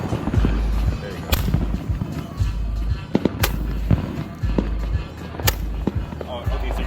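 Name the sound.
fireworks going off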